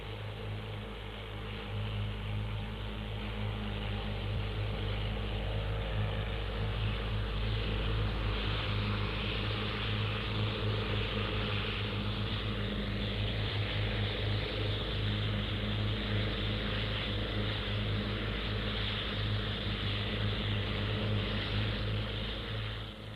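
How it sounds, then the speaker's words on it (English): Saunders-Roe Skeeter helicopters performing at the Farnborough air display, a steady droning engine and rotor roar heard from a distance, constant and unbroken throughout with no talk. "The helicopters steal more of the limelight year by year."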